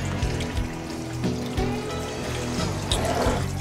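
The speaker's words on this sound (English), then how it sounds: "fill the sink with water" Water runs steadily from a tap into a blocked kitchen sink, filling the basin before plunging. The pour is a continuous near splashing trickle with no speech over it.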